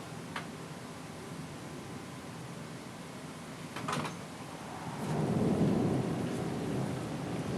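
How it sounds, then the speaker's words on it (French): Low thunder rumbles and swells during a snowstorm in Sallanches, Haute-Savoie, a distant broad roll that builds toward the end over a steady hiss of falling precipitation, with a few faint sharp ticks. "C'est bel et bien un orage de neige."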